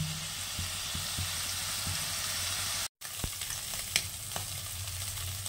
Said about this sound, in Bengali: আর চিংড়ি মাছটা ভালো করে ভেজে নেব।